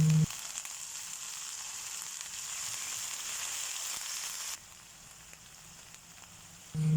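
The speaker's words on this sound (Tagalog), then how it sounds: "At igigisa ko ng mabuti yung ating bagoong para naman lutong-luto." Shrimp paste (bagoong) sautés with onion and garlic in a hot pan, giving a loud, steady sizzle that drops quieter partway through as the frying settles.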